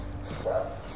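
A dog gives a single short bark or yip at close range, set against low background rumble.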